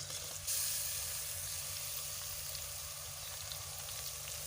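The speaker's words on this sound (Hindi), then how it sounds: "अभी ये लहसुन है, लहसुन डालेंगे।" Soft, steady sizzling of garlic frying in a pan for chicken salan, a quiet continuous crackle with a brief louder burst near the start.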